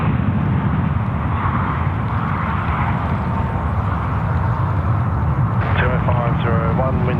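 A Cathay Pacific airliner rolls for takeoff on runway 34 left at Sydney Airport, a loud, steady jet roar filling the scene throughout, with a voice briefly heard near the end.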